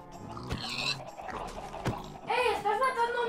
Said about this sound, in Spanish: Estoy matando a los cerdos.